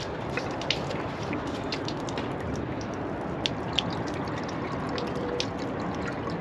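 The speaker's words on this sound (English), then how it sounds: "We're emptying the tank." Water rushes and gurgles steadily as it drains out of an Airstream camper's tank during winterizing, with occasional faint drips and splashes.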